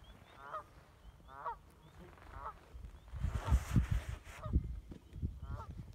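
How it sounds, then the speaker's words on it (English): Several geese honk in short repeated calls nearby, with a few rounds of honking spaced apart against a low rumbling background. "A couple of these geese just landed."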